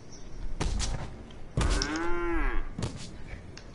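Cattle in a video game let out two or three long, loud moos, each a drawn-out bovine call with pauses between them.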